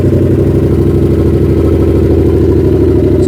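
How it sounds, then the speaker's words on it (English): A 2022 Yamaha R7 sport motorcycle with aftermarket exhaust idles loudly and steadily up close, a deep throbbing burble with a rough, uneven exhaust note and no talking. "we'll go ahead and start this thing up, give her a little bit of a rev."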